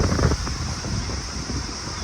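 Steady wind rushes and buffets the microphone at Hyams Beach, Jervis Bay, a constant low roar with faint surf-like wash underneath and no talking.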